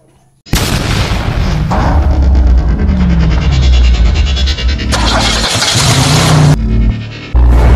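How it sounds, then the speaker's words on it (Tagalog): A fish vendor's motor tricycle passes close by, a loud, continuous throbbing engine roar that starts abruptly and dominates throughout. "pasensya na guys sa mga saan may dumadaan dito kasi na tricycle naglalako ng isda"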